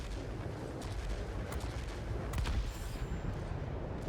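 A Horten Ho 229 fighter in World of Warplanes fires its aircraft cannon in a dense, continuous rumbling barrage with sharp bursts poking through a steady roar of engine noise.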